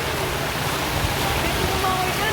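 Floodwater rushes through an overflowing creek during a typhoon in North Caloocan, a dense steady roar of turbulent water filling the whole stretch, close and constant.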